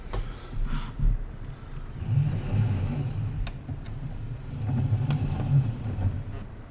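A tractor engine in Farming Simulator 19 hums steadily at low pitch with gentle swells in revs, working near a stream on an old farm, with no talking.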